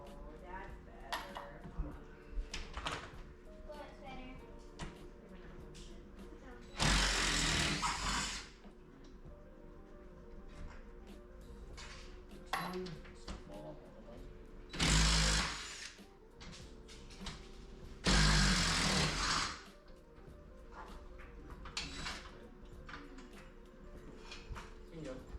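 A power driver secures wooden frame boards to wall studs for a fireplace media wall, three loud whirring bursts of a second or two each, with someone talking between them.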